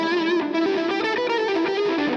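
Gibson L6S electric guitar played through an overdriven amp with added distortion, a sustained gritty chord ringing with slight wavering, heard close and alone.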